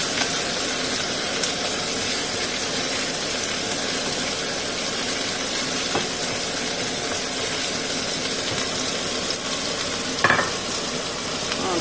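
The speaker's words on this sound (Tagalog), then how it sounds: "So, isusauce natin siya sa curcuma and curry." Mutton sautéing in oil with turmeric and curry gives off a steady, loud sizzle and hiss that runs continuously, with one brief scrape or clatter near the end and no talking.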